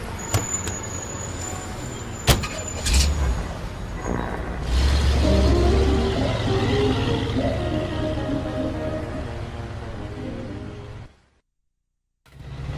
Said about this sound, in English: now we're just driving around